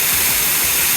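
Waterfall on the Seven Waterfalls hike in Juayua, close by: a loud, steady broadband roar of falling water, continuous and without pauses or talk.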